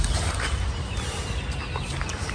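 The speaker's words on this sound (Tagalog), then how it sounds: "Ito yung mga manok natin." Farm chickens cluck in a dense, noisy jumble on a hot, dry rural property, close and continuous for a couple of seconds with no talking.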